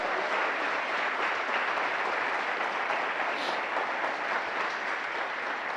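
A church congregation applauds steadily at a sermon about the message of the cross, a dense, even wash of clapping held at the same level throughout with no voices standing out.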